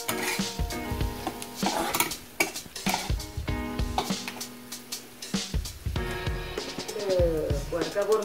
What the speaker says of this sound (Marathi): हे बघा व्यवस्थित मिक्स करून घ्यायची ती भाजी